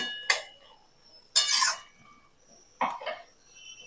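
A spoon stirs sugar into a vegetarian pui shak (Malabar spinach) curry in a pan, making three separate metallic scrapes and clinks spaced about a second apart against a quiet background.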